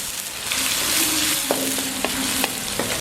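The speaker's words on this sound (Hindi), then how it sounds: "प्याज को हमें ज़्यादा ब्राउन नहीं करना है, हल्का सा इसको ब्राउन करना है।" Onions sizzle steadily in a hot pan as they lightly brown for chana dal, with a few sharp clinks of stirring over the close, even frying hiss.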